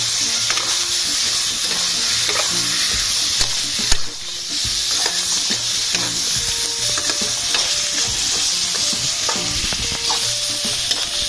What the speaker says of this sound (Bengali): জিওল মাছগুলো দিয়ে ভালো করে নেড়ে দেব